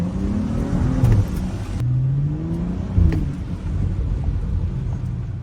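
A bagged BMW F30 335i pulls away with a steady engine drone that rises in two brief revs, its low rumble continuous and close throughout.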